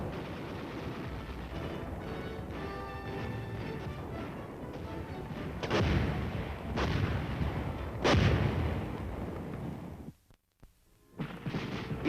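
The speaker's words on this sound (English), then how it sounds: "It takes a team of soldiers to fire an artillery piece." Artillery piece firing in an old US Army training film, a dense rolling barrage of booms with several heavy blasts standing out near the end and a brief dropout before firing resumes.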